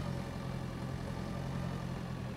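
Tractor engine in Pure Farming 2018 running at a steady idle, a continuous low droning rumble that holds at an even, moderately loud level throughout, with no voices.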